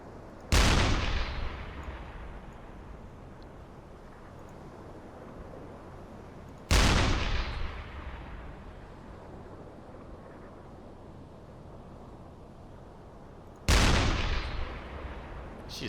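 A submarine deck gun in the game UBOAT fires at a ship, three heavy booming shots spaced several seconds apart, each trailing off into a long rumbling echo over sea ambience.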